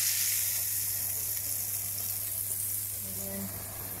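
Meat added to mung beans in a hot pan for ginisang monggo with ampalaya and pork, giving a steady, close sizzle and hiss that fades slightly toward the end.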